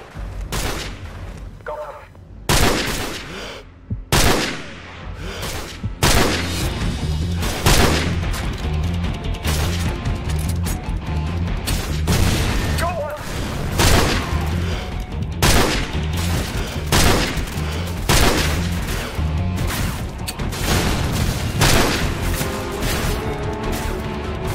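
Call of Duty 4: Modern Warfare on Xbox 360, loud close gunshots in repeated sharp bursts with heavy impacts across a busy battle, sometimes under faint talk.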